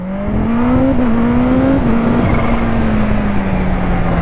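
A supercharged Kawasaki Ninja H2 motorcycle with an aftermarket Akrapovič exhaust revs loudly and holds a steady, rising drone with a raspy exhaust note, close by and continuous throughout.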